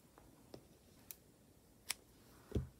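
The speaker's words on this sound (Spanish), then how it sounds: "Cortamos el hilo." Scissors snip through knitting yarn while finishing the strap of a knitted girls' summer dress: three or four quiet, sharp clicks spaced apart, close by against a faint background.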